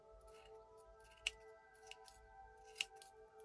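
Scissors snip excess wool off a pom-pom over a tray, with two sharp, distinct cuts and a few fainter snips against a quiet hum.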